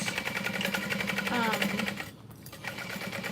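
A sewing machine runs steadily, backstitching along the top of a messenger bag, its fast rhythmic whirr broken by a short pause before it resumes at close range.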